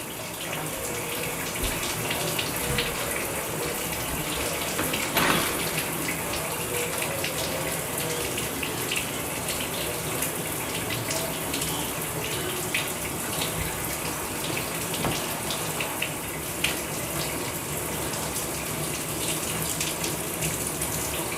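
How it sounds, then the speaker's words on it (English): A shower runs steadily for a long stretch, a dense, close hiss of spraying water with no pauses and only small shifts in texture. "Letting the water get a little bit warm, okay?"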